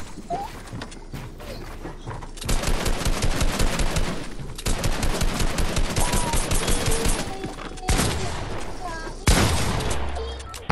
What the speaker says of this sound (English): I shot you through the cone